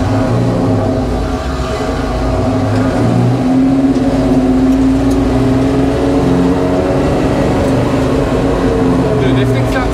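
Engine of a 1965 Ford F100 NASCAR Cup truck with a spool rear end, roaring loudly and steadily from inside the cab as it pulls away and drives, a sustained deep drone with rising revs, with voices talking over it.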